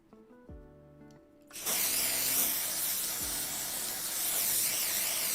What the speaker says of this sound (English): Ah, you just sprayed my face!